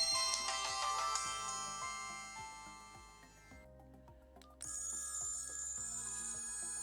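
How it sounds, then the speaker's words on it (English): A 2005 Sony Ericsson J220 mobile phone plays polyphonic ringtones, bright melodic tones over a steady rhythmic beat, switching from one tune to another partway through, clear and close. "Some recognisable ringtones there."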